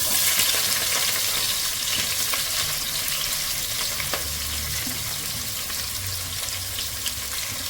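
Onions frying in a pan for a pressure-cooker beef biryani, a steady close hiss of oil with faint scrapes of stirring mixed in, continuous and even throughout, no one speaking.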